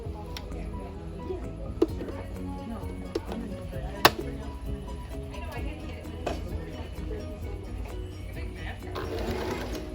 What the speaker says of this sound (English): I am just going to sew a straight seam down